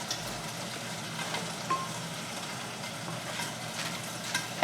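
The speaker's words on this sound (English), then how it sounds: "You can hear those green beans sizzling." Green beans sizzle and crackle steadily in a hot pan, a soft continuous hiss with occasional pops and faint clinks, no talking.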